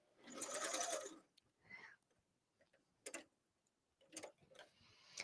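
A coverstitch machine runs chain-stitch rows with elastic thread for shirring, starting with a loud steady rapid run of about a second, followed by quieter short ticking bursts and pauses as the fabric moves back and forth.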